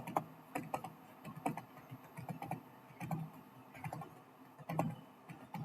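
Fingers typing on a computer keyboard, soft irregular key clicks in quick bursts and pauses, quiet and close, with no voices.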